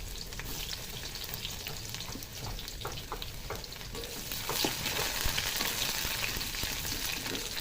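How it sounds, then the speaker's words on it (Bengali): Chopped garlic frying in hot oil in a kadai, a steady close sizzle with crackling bursts and occasional stirring scrapes, growing a little louder partway through, with no talk. "তেলটা গরম হয়ে গেছে দিয়ে দেবো রসুন কুচিয়ে রাখা"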